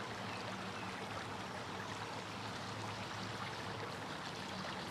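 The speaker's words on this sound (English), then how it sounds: "I think the water's a little bit louder than it was last week" Forest stream flowing steadily, a dense, continuous wash of running water close by, with no breaks or voices.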